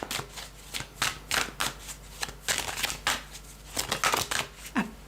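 A deck of advice cards is shuffled at close range during a tarot reading, giving several quick riffling bursts of papery flutter with short pauses between them.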